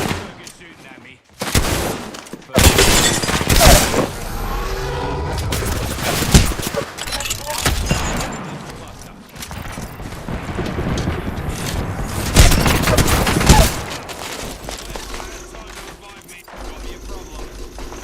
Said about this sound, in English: You're shooting at me.